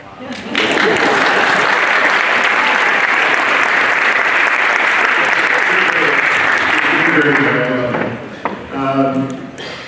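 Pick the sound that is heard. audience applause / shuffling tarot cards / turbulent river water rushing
audience applause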